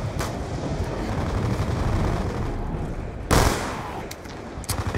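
A gunshot in Call of Duty Black Ops 2 Zombies, one loud burst rising out of a dense, continuous wash of game noise and rumble.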